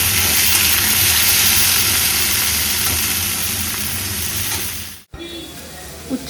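Bitter gourd and potato fry in hot oil with a loud, steady sizzle that holds for about five seconds, cuts off abruptly, then returns softly with a small clink near the end.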